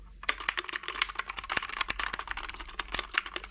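Fast, clicky typing close up on an IKBC Poker 2 60% 61-key mechanical keyboard with Cherry MX switches, a steady stream of sharp keystrokes with no talking.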